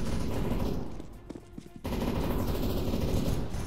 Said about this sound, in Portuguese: Eu tô ouvindo que é uma metralhadora, né?